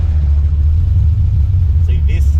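A car engine idles at Powercruise with a steady, loud low rumble throughout, and faint high chirps rise briefly near the end.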